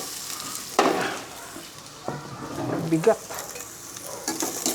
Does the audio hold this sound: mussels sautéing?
yes